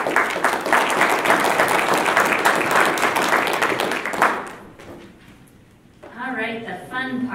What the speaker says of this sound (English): if you give these guys a big applause